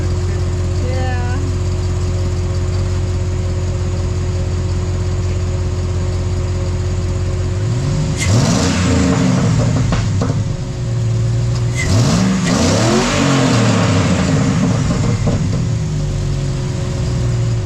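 A car engine with newly installed headers revs in two short bursts over a steady idle, sounding crisp with some popping. Voices talk around it.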